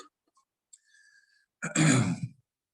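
A dry-throated man clears his throat in one harsh, rasping burst lasting about half a second, close and fairly loud, after a few faint small noises in near silence.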